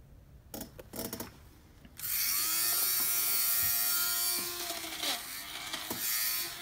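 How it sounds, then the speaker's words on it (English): A handheld fabric shaver runs steadily for several seconds, a close, buzzing whir with a harsh scraping edge as it strips fuzz from a shoe, preceded by brief rubbing and clicking handling noises. "we came across a hand shaver"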